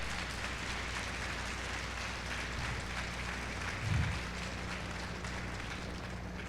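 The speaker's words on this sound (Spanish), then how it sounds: "Moisés, dale ese fuerte aplauso al Rey" Faint, steady applause from a distant church congregation, a soft continuous patter of clapping throughout.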